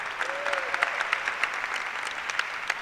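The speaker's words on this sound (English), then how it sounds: "Everyone clap it up for Mark." An audience applauds for a man named Mark at a motivational talk, a steady dense wash of clapping that holds at an even level throughout.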